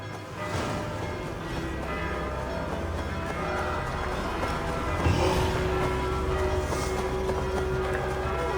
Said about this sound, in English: I must ring the bell.